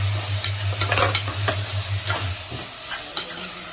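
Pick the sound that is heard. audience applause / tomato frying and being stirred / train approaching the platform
tomato frying and being stirred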